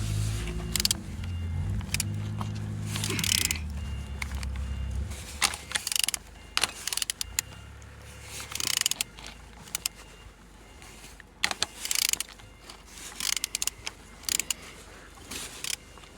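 A Nissan A14NET engine being turned over for a compression check, with mechanical whirring and cranking at the start followed by scattered clicks and clunks, close by, no talk.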